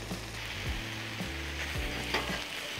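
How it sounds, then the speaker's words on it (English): A big pile of corned beef sizzles loudly on a hot Blackstone griddle, a steady crackling fry broken by occasional scraping and stirring strokes of a spatula. "Listen to that sizzle."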